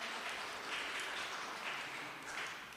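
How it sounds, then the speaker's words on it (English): Audience applause at a health symposium in Chicago, a steady wash of many hands clapping at moderate distance, faint and continuous throughout. "can you give yourselves a round of applause?"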